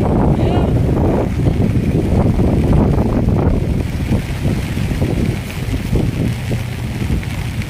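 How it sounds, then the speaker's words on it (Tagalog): Strong gusting wind roars and buffets the microphone, with a constant rushing wash of rain and water, loud and close, during bad weather at Manila Bay. "bigla na namang umulan at lumakas yung hangin"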